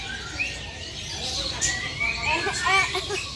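Birds chirp and tweet at a bird and animal market, several short high calls scattered over a busy background of voices and people talking nearby.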